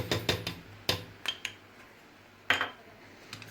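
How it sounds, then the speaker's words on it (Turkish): A spoon knocking and scraping in a pot while a spoonful of butter is stirred to melt for a Turkish saray sarması dessert: a handful of sharp metallic clinks and taps in small clusters, close and fairly crisp, no talk. "Ve tereyağı eriyinceye kadar karıştırıyorum."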